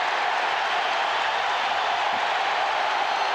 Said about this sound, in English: Crowd coming to their feet.